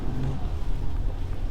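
A Nissan GT-R R35 on summer tires accelerates on a snowy road, a steady low engine rumble with a slight rise in pitch, heard from inside the car without speech.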